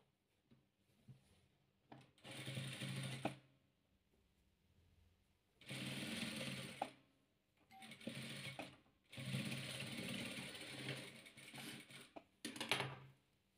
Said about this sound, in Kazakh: Міне көк пен көкті осылай тігіп аламыз